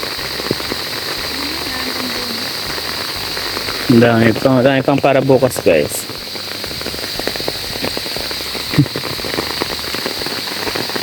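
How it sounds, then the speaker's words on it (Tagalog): Heavy rain drums steadily on surfaces around a mulberry harvest, a dense constant hiss up close, while a person speaks briefly over it. "Kahit malakas ang ulan guys,"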